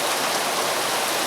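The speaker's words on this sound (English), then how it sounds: "Got a lot of rain coming down." Heavy rain pours down in a dense, steady hiss of countless drops, loud and continuous with no voices.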